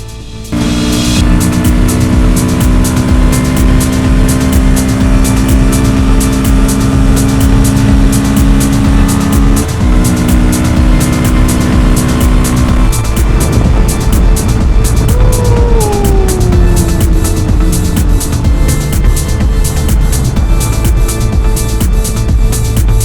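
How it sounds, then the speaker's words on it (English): Royal Enfield Himalayan 450 motorcycle engine at speed, a loud, continuous roar with steady tones, rising and shifting pitch later as it revs and changes gear, with strong wind rush throughout. "One hell of a motorcycle"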